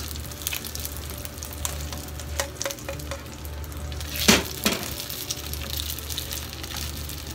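Gyoza dumplings pan-fry uncovered on their second side with a steady, moderately loud sizzle, crackles and pops scattered throughout and a brief louder spitting burst midway.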